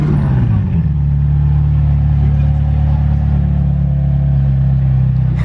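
A McLaren Senna firing up, a loud close engine catch with a quick rising flare settling into a deep, steady idle rumble, with voices faintly audible around it.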